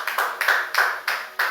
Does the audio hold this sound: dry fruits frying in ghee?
no